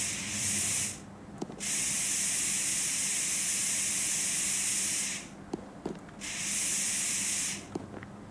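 Simulated spray painting of truck parts in Diesel Brothers Truck Building Simulator, on a 6-door Dodge 3500 build: three long, steady, loud bursts of hissing spray, each lasting a few seconds, separated by short quiet gaps with faint clicks.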